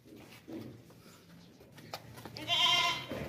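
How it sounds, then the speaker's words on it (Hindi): A heavy, long-eared Makhi Cheena buck, a sacrificial-breed goat, lets out one loud, wavering bleat near the end after a stretch of quiet, low farmyard background. "बहुत ही ज़बरदस्त बेहतरीन बकरा है"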